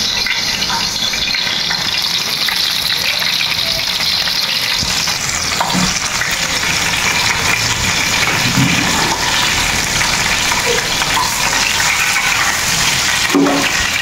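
Fish frying in hot oil in a home kitchen, a steady loud sizzle with spattering crackles running throughout, no talking.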